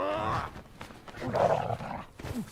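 A dog, Krypto from a Superman film, gives a low growling snarl with rough bursts, fairly quiet and close, with no talk over it.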